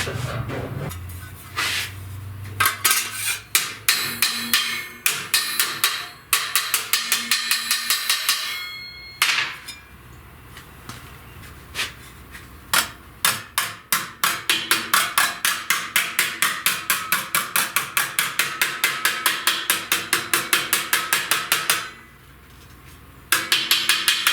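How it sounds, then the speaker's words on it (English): A hammer strikes sheet metal laid along a pipe while a patch panel is rolled and flattened for a 1969 C10 front fender rust repair, with a long run of sharp, close metallic taps, some spaced and some in rapid bursts. "I'm just taking my hammer along the pipe"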